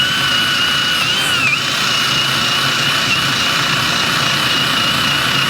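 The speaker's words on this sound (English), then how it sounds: "We got our drill with the attachment for the brush" A drill spinning a wire brush attachment against a vehicle wheel hub during axle and hub bearing repair, a loud, steady, close high-pitched whine that holds for the whole span without pause.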